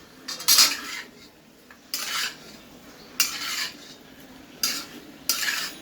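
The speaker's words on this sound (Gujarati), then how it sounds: "ફરીથી આપણે એકવાર હલાવી લઈશું." A spoon scrapes and clinks against a pan while potato curry is stirred after lemon juice and sugar go in, five short bursts of scraping spread evenly with quiet gaps, close and fairly soft.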